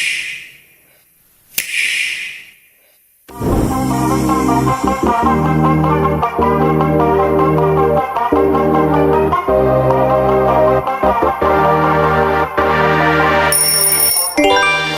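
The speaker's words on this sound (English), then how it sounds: "That's the Nintendo Switch!" Nintendo Switch audio logo: a couple of short bright clicks over near silence, then a sustained loud run of chiming, bell-like electronic tones with a steady pulsing rhythm, ending on a high sparkle.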